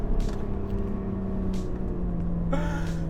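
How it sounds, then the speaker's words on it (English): Lotus Evora 400 supercharged V6 engine idling with a low, throaty rumble, close and steady, then a brief rev that brings a harder, brighter burst near the end. "Oh, unexpectedly good sound from this V6. It's nice and throaty."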